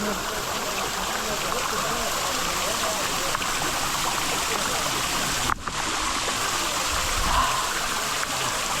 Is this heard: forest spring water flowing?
yes